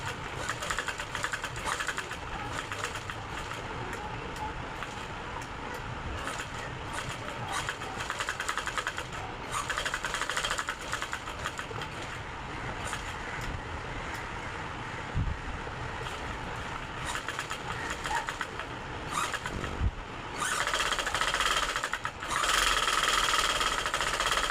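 Sewing machine stitching nighty fabric runs steadily in a continuous mechanical hum and chatter, with a few brief knocks and pauses near the end and no speech.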